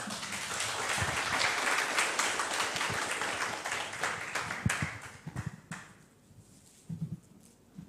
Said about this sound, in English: Please give applause to him